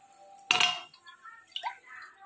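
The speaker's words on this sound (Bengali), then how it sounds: "প্রেসারের মধ্যেই আমি জলটা দিচ্ছি, কারণ প্রেসারটা গরম আছে" Water is poured into a hot pressure cooker while a Bengali fish curry is cooked, giving a sharp burst of splashing and hissing with pot clatter, then quieter clinks and a short drip.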